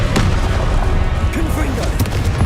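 Fiery Confringo spell blasts in Hogwarts Legacy, booming bursts repeated through a dense, loud game mix of rumbling effects and other spell sounds.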